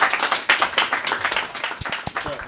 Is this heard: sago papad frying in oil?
no